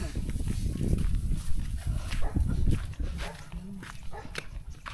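Dog barking outdoors at a fishpond, mixed with people talking nearby, the barks sounding as a few rough bursts over steady wind-like background noise.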